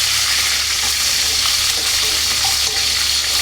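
A tempering for gongura pachadi fries loudly in a pan, with a dense, continuous close-up sizzle that holds steady the whole time and has faint stirring under it.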